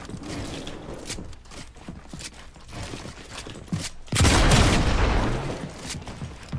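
Fortnite gunfire: dense bursts of shots rattle through the first four seconds, then a loud, sustained boom and heavy roar of a nearby blast fills the rest.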